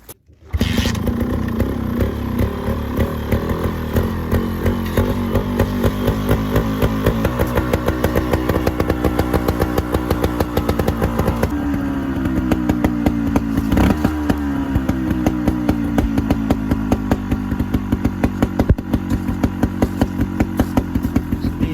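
A 2020 Beta 300 Evo two-stroke trials motorcycle engine starts and then idles steadily up close, with a buzzy, rapid-firing putter and a few small throttle blips lifting the pitch midway.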